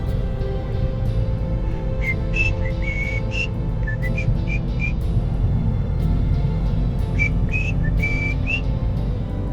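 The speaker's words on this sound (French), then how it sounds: "Désolé d'ailleurs pour le sifflement." A person whistles short melodic phrases in two bursts, clear and close, over the constant low rumble of a car's road noise during a night drive.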